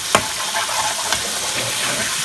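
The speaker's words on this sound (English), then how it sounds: "Mix through again." Chicken tikka achari curry with mango chutney being stirred in a sizzling pan, a steady frying hiss with a few sharp scrapes of the spoon against the pan, close and loud with no talking.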